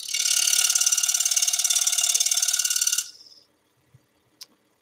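A scroll saw cuts feather details into a wooden bird, buzzing steadily and loudly for about three seconds before the blade stops, followed by a couple of faint knocks.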